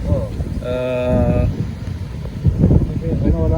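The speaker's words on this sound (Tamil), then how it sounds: "காற்று காற்று பயங்கரமாக இருக்கு" Strong wind gusts across an outdoor vegetable garden in France, a steady rough buffeting roar on the microphone, with voices talking over it throughout.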